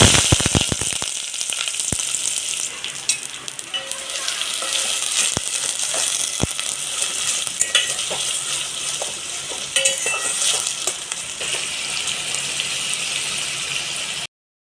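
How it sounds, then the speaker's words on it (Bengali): Sliced onions crackle and sizzle in hot mustard oil in a cooking pot, a steady dense frying hiss with scattered sharp pops and occasional stirring scrapes, close and loud throughout with no voices. "আগে আমি তো পেঁয়াজ একটু ভেজে নিচ্ছি"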